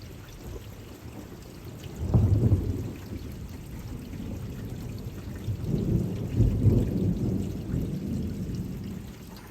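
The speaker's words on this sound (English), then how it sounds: "it's taken a while to get the thunder" Thunder rolls through a Texas rainstorm in two deep rumbles, one swelling early and another building later, over a steady hiss of rain with no voices.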